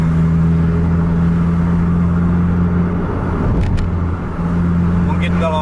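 A diesel bus engine drones and slowly builds speed on a quiet highway at night, around 70 km/h, a steady low hum with a faint rise in pitch, people talking over it.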